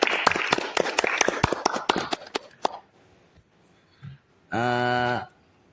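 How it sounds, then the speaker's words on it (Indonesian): A few podcast participants clap their hands at the close of an episode, a quick burst of sharp, close claps that fades out after about three seconds, followed by quiet and a short electronic tone. "Tepuk tangan dulu dong."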